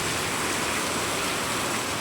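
Heavy rain falls and rainwater flows through a courtyard, a dense, continuous hiss and rush close by with no voices.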